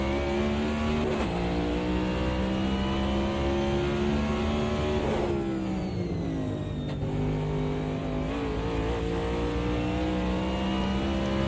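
A race car in a sim racing game at Adelaide, its engine droning steadily with the pitch rising and falling as the throttle is worked through corners, loud and continuous.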